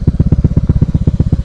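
A motorcycle fitted with a modified bobokan exhaust thumps out a deep, bassy idle, a fast, even train of loud low pulses recorded close to the pipe, with no talking.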